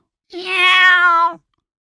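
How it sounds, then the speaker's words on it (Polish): A single clear black cat meow from an audiobook sound effect, a drawn-out tonal call of about a second, close and loud, alone with no talk. "Przystanął, spojrzał na Bena i miałknął."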